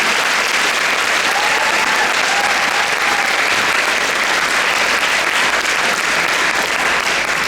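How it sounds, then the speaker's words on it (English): Sustained round of applause from a high school audience in a gym or auditorium, loud dense clapping filling the whole stretch without pause. "give our hands one more round of applause"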